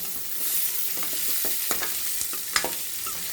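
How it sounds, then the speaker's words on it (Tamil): Onions and curry leaves sauté in a hot pan for a kung-style kudal kuzhambu, a steady close sizzle broken by a few sharp stirring clicks and scrapes, with no voices. "கருவேப்பிலை போடலாம். வெங்காயம் வதக்கிடலாம்."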